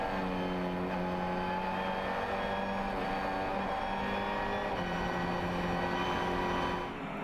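Race cars roar around the Dijon circuit in a Lamera Cup race, several engines droning continuously and loud with steady harmonic whine, one surging slightly near the end.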